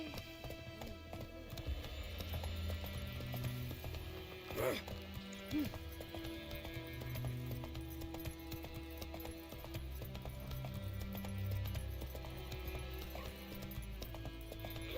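The horse Roach trots along in The Witcher 3, with steady clip-clopping hoofbeats going on throughout under quiet voices and a soft ambient background.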